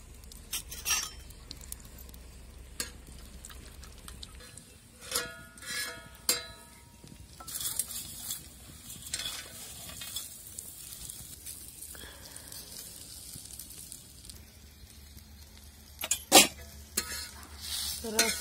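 Garlic, green chillies, onion and dal roast in a pan for a spicy patvadi rassa masala, with repeated scraping and stirring strokes, occasional metallic clinks of a spatula and a low sizzle continuing throughout.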